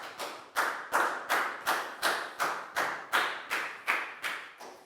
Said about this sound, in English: a big round of applause for Nadia